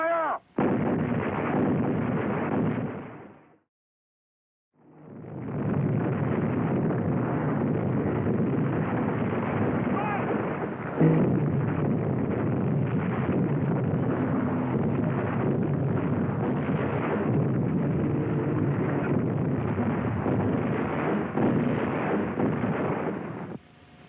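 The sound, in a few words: artillery battery firing, explosions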